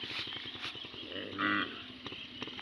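Cows mooing in a field close by, with a sustained low bellow standing out mid-way against an outdoor background of wind and scattered noises.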